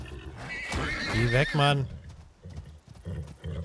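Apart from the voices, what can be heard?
horse neighing and galloping in video game Icarus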